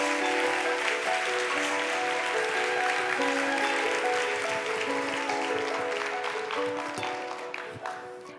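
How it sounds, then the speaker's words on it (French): Audience clapping for Myriam Amrouni at a Mondial Tech women's event runs as a sustained wash under loud music, tapering off toward the end. "que vous applaudissez bien sûr très bien"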